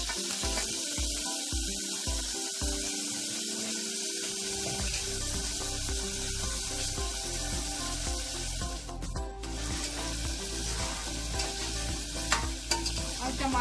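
Cumin and green chili tempering in hot oil, a loud, steady close sizzle with stirring scrapes that runs the whole time without talk.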